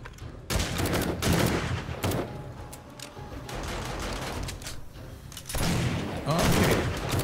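Bursts of rapid gunfire at a distribution node in 7 Days to Die come in several dense volleys, with short quieter gaps between them, loud and close.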